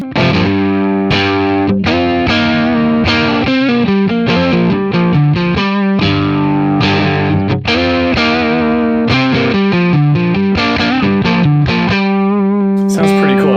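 Electric guitar through a Donner mini pedal switched to hot mode, a loud, heavily distorted stream of chords and riffs played continuously and alone, bright and saturated throughout.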